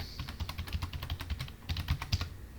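Rapid, soft keystrokes on a computer keyboard patter continuously at close range, with a brief pause midway before the typing resumes.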